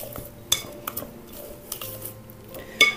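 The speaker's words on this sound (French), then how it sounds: "On mélange rapidement." A spoon quickly stirs cake batter with chocolate pieces in a bowl: soft mixing swishes punctuated by a few sharp clinks of utensil against the bowl, close and fairly quiet, with no talk.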